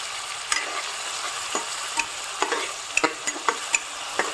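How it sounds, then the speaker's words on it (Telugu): Onions fry in hot oil inside a pressure cooker, a constant soft sizzle broken by frequent short scraping clicks of a spatula stirring against the pot, close and with no voices. "ఇప్పుడు ఆయిల్ వేడైన తర్వాత ఆనియన్స్ వేసి వేయించుకోవాలి."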